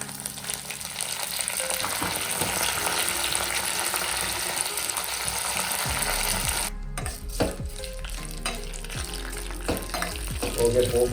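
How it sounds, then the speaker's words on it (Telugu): Dried red chillies and curry leaves crackle and sputter in hot oil with mustard seeds and cumin, a close, busy frying hiss broken by metallic clinks and scrapes of a spoon against the pan. "నూనె వేడెక్కింది వేసేస్తున్నాను తర్వాత ఎండుమిర్చి"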